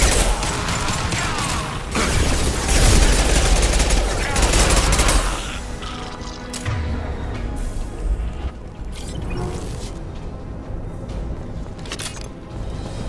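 Impact shot weapon firing in Mass Effect 2, a loud close burst of rapid repeated shots and crashes for several seconds, then quieter mechanical clatter and scattered hits with some talk.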